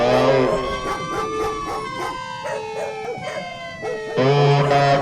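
Several dogs howl together in long, wavering, sliding wails that rise and fall and overlap, loud and close, fading slightly mid-way before swelling again at the end.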